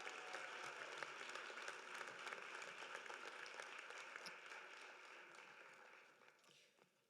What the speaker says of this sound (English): Another round of applause for Athene.